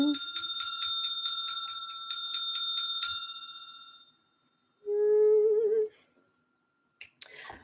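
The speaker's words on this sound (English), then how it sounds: "I'm just gonna give a little bell ring." A small bell rings in two bursts of bright, repeated metallic strikes, then fades; a short low hum and a faint click follow.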